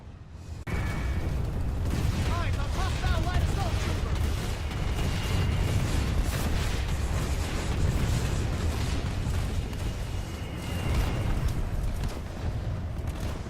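Rocket fire from NC Reaver aircraft strafing a base in the video game Planetside 2, a dense, continuous rumble of explosions and booms with overlapping bursts and chatter of battle throughout.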